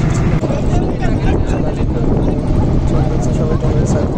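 Trawler boats on Kaptai Lake at Rangamati: a loud, steady engine drone with a constant rumble and wind rush, close and continuous throughout.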